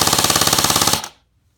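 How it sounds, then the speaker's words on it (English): A G&P MRE M4 airsoft electric gun fires one short full-auto burst, a fast, even mechanical rattle of about fifteen rapid shots, loud and close, ending abruptly with a brief tail. "this thing I'm going to fire one more time full auto"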